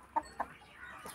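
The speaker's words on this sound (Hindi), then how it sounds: "अच्छा ये भी तुम्हारी मुर्गी है?" A chicken in a Pakistani village gives two short, faint clucks in quick succession, followed by soft rustling.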